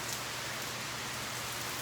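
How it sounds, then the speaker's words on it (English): Heavy rain pours down outdoors in a steady, dense downpour, a loud continuous hiss of drops drumming on surfaces with no breaks and no voices over it. "Hopefully y'all can hear me over that downpour that's coming down out there right now."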